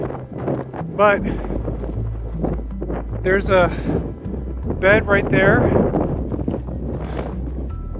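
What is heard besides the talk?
strong wind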